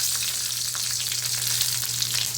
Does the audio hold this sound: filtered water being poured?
no